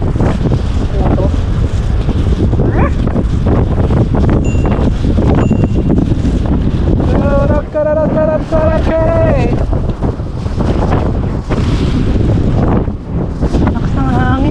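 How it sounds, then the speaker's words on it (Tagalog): Strong wind buffets the microphone at night in an outdoor park, a loud continuous rumble with gusty bursts. Voices talk intermittently over it. "Lakas ng hangin."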